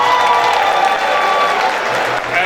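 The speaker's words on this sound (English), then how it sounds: "Please applaud him." An audience at a concert event in Washington applauds steadily and evenly, a dense wash of clapping with faint crowd murmur, sustained without break and easing slightly near the end.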